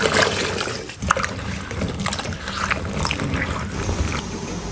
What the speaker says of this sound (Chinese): 大锅子倒水洗一下。